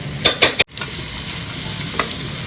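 Pre-cooked beef tipped into a pan of mint masala, with a few clattering stir strokes up front and then a steady, close sizzle running underneath.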